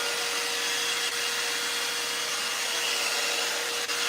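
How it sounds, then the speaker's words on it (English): A hair dryer blows steadily during blow-drying of a quick weave, giving a constant, close airflow roar throughout with no talking. "But this blow dry is really good."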